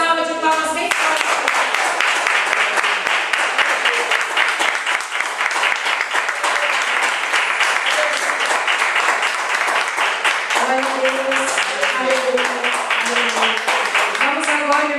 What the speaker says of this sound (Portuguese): Vamos todos dar uma salva de palmas bem forte.